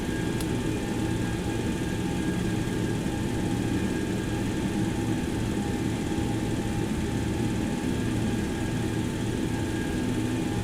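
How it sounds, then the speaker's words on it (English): Steady, loud roar of a Boeing 727-100's three old, noisy Pratt & Whitney jet engines in a flight simulator game, a continuous broadband drone with faint tonal whine running unbroken throughout. "powerful Pratt & Whitney, very old, skinny, noisy jet engines"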